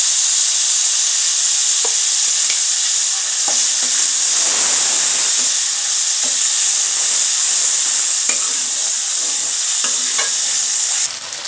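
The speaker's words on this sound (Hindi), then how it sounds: "मसाला हमारा भुन चुका है।" Spices with salt, turmeric and dried coriander fry in a pan for Pakistani dhaba-style chana dal, making a loud, steady hissing sizzle with occasional stirring knocks underneath.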